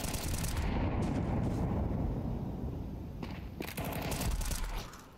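Dense, rapid bursts of video game gunfire and explosive blasts, loud and chaotic, continuing throughout with no talking.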